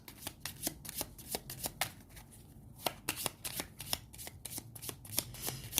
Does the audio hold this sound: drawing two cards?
yes